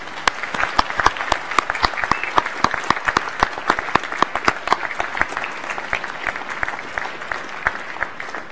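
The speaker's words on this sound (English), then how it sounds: "Can we give them all a round of applause and thanks, please?" Graduation ceremony audience for the School of the Built Environment applauding, a sustained crowd of crisp individual claps filling the hall evenly for several seconds.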